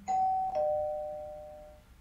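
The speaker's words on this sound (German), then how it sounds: "Es hat geklingelt." A doorbell from an intercom wired to a Shelly UNI smart relay chimes twice, a clear electronic two-tone ding that rings out and slowly fades, alone in a quiet room.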